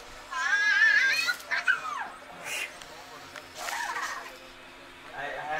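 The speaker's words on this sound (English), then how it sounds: "She stands by the door and howls." A dog whines and howls in high, wavering cries, with people talking intermittently nearby.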